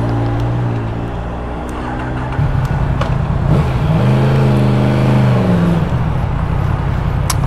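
A Yamaha MT10 motorcycle engine runs steadily while riding, then rises in pitch with a rev around the midpoint and holds a loud, continuous mechanical drone through to the end, with no talking.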